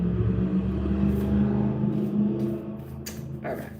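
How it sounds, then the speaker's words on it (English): A truck revving its engine up a hill: a steady low engine drone with a faint hum, holding fairly even before easing off near the end. "A truck revving its engine right up the hill."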